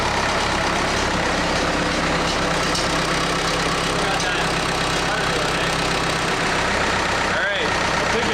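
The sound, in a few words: Case 430 skid steer diesel engine running at full throttle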